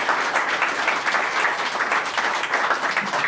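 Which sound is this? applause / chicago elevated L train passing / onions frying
applause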